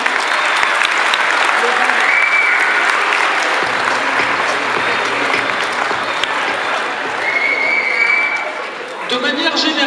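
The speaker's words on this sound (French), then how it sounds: "Je pense qu'on peut les applaudir." Audience at a 2016 dinner-dance applauds the young volunteers: loud, dense, continuous clapping from a full room, sustained for the whole stretch and easing slightly near the end, with a few voices rising beneath it.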